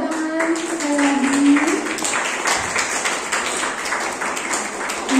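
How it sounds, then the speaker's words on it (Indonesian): An audience at a university guest lecture on statistics claps in a brief burst of applause, with a voice speaking over the clapping near the start. "kita beri tepuk tangan sekali lagi"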